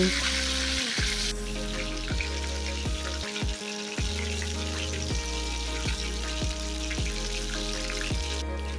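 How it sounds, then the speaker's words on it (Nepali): Soya chunks deep frying in hot oil make a continuous crackling sizzle, with repeated clanks and scrapes of a utensil stirring them, steady and close with no voices. "मैले सोयाबिन फ्राई गर्नु स्टार्ट गरिसकेको छु र बिस्तारै बिस्तारै गर्दै म सबै सोयाबिन फ्राई गर्नेछु"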